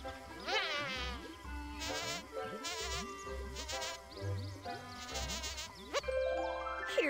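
Buzzing of a tafly insect in the Viva Piñata video game on Xbox 360, heard as warbling, wavering tones that come in repeated bursts over a game music backdrop with bleating animal calls, fairly loud and with no talk.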